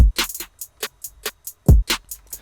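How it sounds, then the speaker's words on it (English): Trap beat with crisp hi-hats, a quick hi-hat roll burst and deep booming kicks, played alone. "we're going to start doing something called a hi-hat roll"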